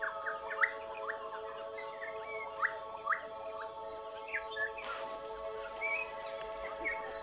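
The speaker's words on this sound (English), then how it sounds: "It's one of the best places in New Zealand to see rare birds in the wild." Rare native New Zealand birds call from a replanted island sanctuary, short chirps and sweeping notes repeating at irregular intervals, faint and somewhat distant over a steady tonal hum.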